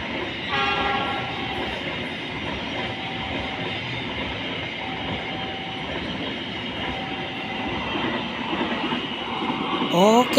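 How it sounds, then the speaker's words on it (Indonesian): Freight train hauling cement behind a CC206 locomotive rumbles past steadily for the whole stretch, wheels and cars droning with a few tonal squeals, and a horn-like rising blast at the very end. "ternyata ini kereta rangkaian mengangkut barang ya, yang sedang mengangkut semen"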